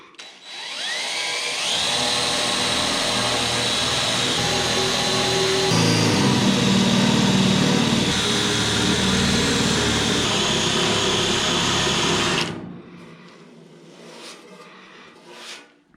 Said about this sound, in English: taking a drill and just hitting these little spot welds and weaken them up a bit